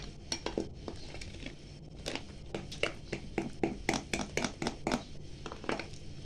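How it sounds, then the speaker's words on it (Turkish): A utensil stirring semolina cake batter in a bowl makes a run of close, sharp scraping and clinking strokes in an uneven rhythm, with no talking. "Hemen karıştıralım. Her tarafını alalım."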